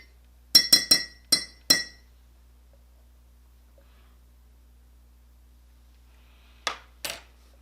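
Glass clinks from stirring inside a glass container: five quick bright taps close together near the start, a long quiet gap, then two more clinks near the end, with no talking.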